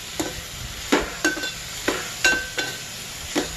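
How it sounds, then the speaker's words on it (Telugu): Tomatoes being stirred into a frying drumstick curry, a low sizzle beneath a regular series of spoon scrapes and clinks against the pan, close and clear. "ఇంకా అదే విధంగా వేసుకొని టమాటాలని వేసుకొని మరలా ఒకసారి కలుపుకోవాలి."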